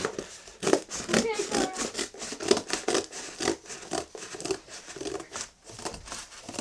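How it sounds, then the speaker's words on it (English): Scissors snipping and paper crinkling for a children's rainforest diorama project, with a rapid run of soft cuts and rustles close by while an adult and someone talk. "So we have our very dangerous scissors."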